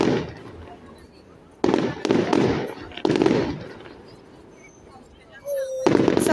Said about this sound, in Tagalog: Isa pang mataas na fireworks dyan.